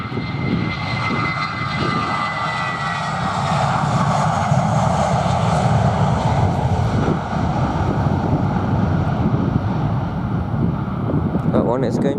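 Wizz Air jet passing at London Luton on a windy afternoon, a steady loud engine roar that swells slightly mid-pass, with gusts buffeting the microphone throughout.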